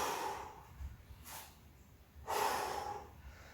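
Deep breaths during a core workout, with two loud, broad bursts of breath, a short one about a third of the way in and a longer, heavier exhale near the end, over a quiet, low background.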